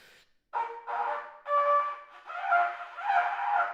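A trumpet played by a beginner gives a handful of wobbly, uneven notes with gaps between them, unsteady and a little harsh, close and alone.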